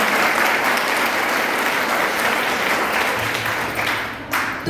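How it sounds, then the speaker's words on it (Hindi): Loud, dense applause from an audience at a Women's Day 2021 event, sustained and steady throughout before easing slightly near the end. "एक बार जोरदार तालियां उनके लिए."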